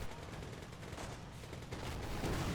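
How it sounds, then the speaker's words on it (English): Mortar shells crashing down in a Company of Heroes battle, a steady, dense rumble of explosions and gunfire with rapid bursts layered throughout, swelling slightly louder toward the end. "mortar coming down on these bars"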